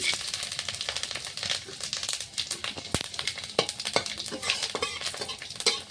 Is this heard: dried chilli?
yes